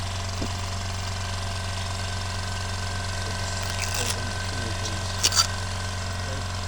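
A Hyundai 24-litre super-silent air compressor running steadily as it builds toward about 100 psi, a constant low motor hum with faint mechanical rattles and a couple of brief clicks near the end.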